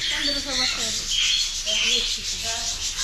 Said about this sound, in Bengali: তোমার টিয়া পাখি উড়ে বেড়াচ্ছে